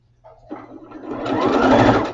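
A sewing machine stitches straight across fabric and back stitches, its motor whirring up from a brief start into a loud, close, steady buzzing run of about two seconds.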